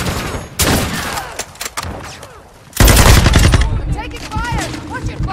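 Close, loud bursts of LMG gunfire from a Sakin MG38 in Modern Warfare 2 on the Shipment map during a Domination match, with sharp rapid shots, a brief lull, then a heavy burst and trailing fire.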